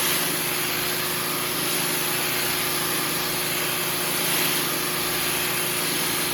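A band saw runs steadily, cutting a wooden intarsia piece for a Yellow Rose of Texas box, a constant high motor whine with a bright cutting hiss, close and even throughout.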